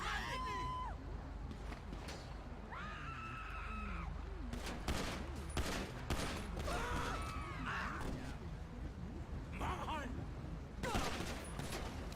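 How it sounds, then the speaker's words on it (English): Gunfire in Grand Theft Auto roleplay, scattered bursts of shots crackling through a busy scene with shouting and other noise, loud and irregular across the stretch. "we got shots fired"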